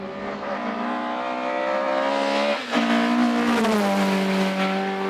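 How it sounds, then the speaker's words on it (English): Hillclimb race car at Gurston Down accelerating hard out of a corner and away, engine loud and close, screaming up through the revs with a sharp gear change partway, then pulling on steadily. "Bascombe cuts the corner and runs wide onto the curb on the exit before rocketing into the distance."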